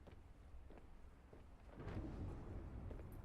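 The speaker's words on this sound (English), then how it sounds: "Oh, there's a storm coming." A thunderstorm in the video game Subnautica: Below Zero: a low rumble of thunder swells about halfway through over a faint bed of rain and stays loud to the end, with no speech.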